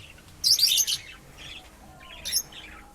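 Birds in bowls in a Hong Kong garden chirp in bright, quick bursts, one busy flurry followed by a shorter second one, fairly close, with no voices.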